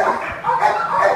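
A big dog barks and yips close by in a short burst, the sounds running together with voices talking nearby.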